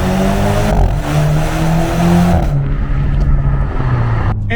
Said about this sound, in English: We'll do a first gear pull.